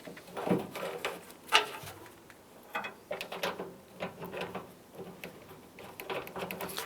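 Ratcheting and clicking of 10mm bolts being started and tightened on a 2004-2012 Chevrolet Colorado tailgate, a run of close, irregular mechanical clicks and clatters with no talking.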